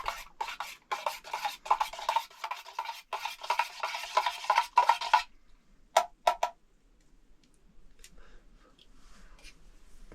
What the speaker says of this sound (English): Your hot cocoa. All right, I'll mix it up.